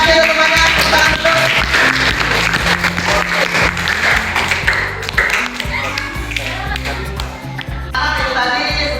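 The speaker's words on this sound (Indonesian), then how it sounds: "Tepuk tangan dulu." Students in a classroom applaud, loud busy clapping mixed with voices and chatter, continuing steadily throughout.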